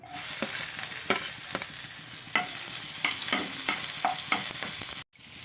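Small onions frying in a little oil for vatana chutney, a steady close sizzle broken by a series of sharp spoon scrapes and taps against the pan, ending in a brief cut.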